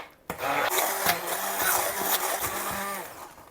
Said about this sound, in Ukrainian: Розбиваємо все це погружним блендером.